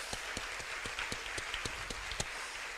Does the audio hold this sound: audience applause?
yes